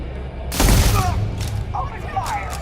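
A sudden burst of gunfire breaks out in a Starfield firefight, a loud, crackling volley followed by scattered shots and rumbling, with voices talking over the fighting.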